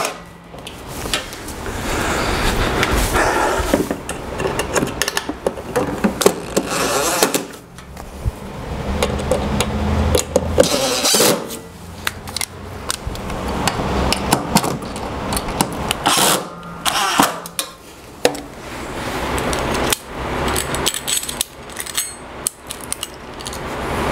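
Screws being tightened on an Incra Clean Sweep fitted to an Incra router table, heard as repeated close metallic clicks, ratcheting and tool knocks in irregular bursts with brief pauses.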